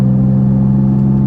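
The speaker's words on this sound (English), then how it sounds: "excuse the noise, the exhaust and whatnot" A car's exhaust drones steadily while driving, a loud, constant low rumble with no talking over it.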